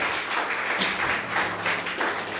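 Church congregation applauding during a worship service, a moderate, even patter of clapping with a faint voice rising briefly, heard at medium distance in a reverberant hall.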